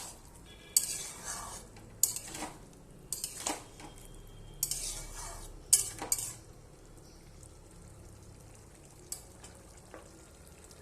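Bottle gourd and eggs stirred in a pan, close scraping and clinks of a utensil against the metal in several bursts over a low sizzle, then quieter with a final tap.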